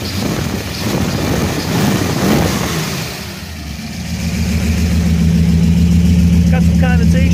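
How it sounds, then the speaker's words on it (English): A rebuilt 1967 Shelby GT350 engine runs steadily at idle, with a brief rise and fall in revs early on, loud and close. "But the engine sounds good."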